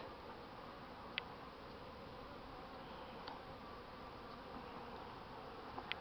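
A steady, faint hum of many honeybees buzzing together at the hive, continuous throughout with a few tiny clicks.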